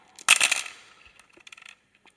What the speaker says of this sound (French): Donc on lance les dés d'attaque.